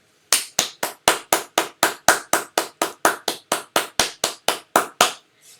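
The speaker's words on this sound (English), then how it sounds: "So let's give our community a round of applause." Sharp, evenly spaced single claps ring out about four per second in a steady rhythm, close and crisp, during an orchestra awards night and senior farewell, ending with a soft final tap.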